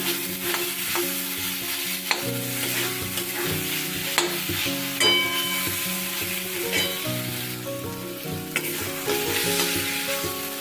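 Fried potatoes being mixed into a frying pomfret (rupchanda) fish curry in oil, with a spatula scraping and clanking against the pan in irregular strokes over a continuous sizzle.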